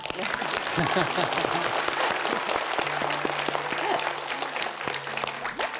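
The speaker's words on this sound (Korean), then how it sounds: "네, 박수." Audience applause at a Buddhist dharma talk, a full continuous burst of clapping from a seated crowd, loud and even, with some voices mixed in beneath it.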